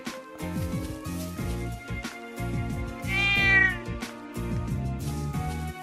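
A cat meows once in The Legend of Heroes: Trails of Cold Steel, a clear drawn-out meow in the middle over steady, rhythmic background game music.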